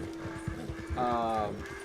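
Horse hooves galloping in a Wild West video game, a steady, rapid clip-clop rhythm close up and continuous throughout, while a voice speaks briefly over the middle.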